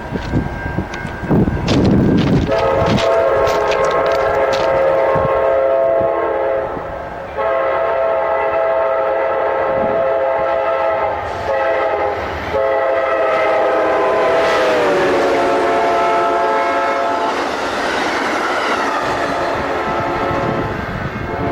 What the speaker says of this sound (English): We had a little train action there.